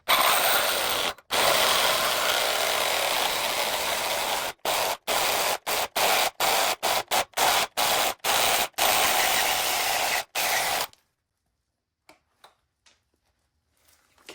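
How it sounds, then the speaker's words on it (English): A Sawzall reciprocating saw cuts through a custom mini bike frame with a loud, harsh, broadband rasp. It starts steady, then breaks into rapid stop-start bursts before going quiet, leaving a few faint clicks. "first we're going to start with the Sawzall, and then after I chop it like off with this"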